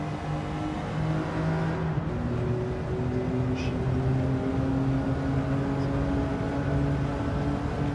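A Porsche race car engine drones steadily in a racing video game, holding a sustained tone with gentle shifts in pitch and no pause in the sound.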